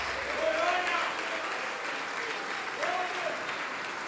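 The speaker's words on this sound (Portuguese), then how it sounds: "Vamos aplaudir mais, vamos aplaudir mais." A church congregation applauds steadily, with a voice rising over the clapping now and then.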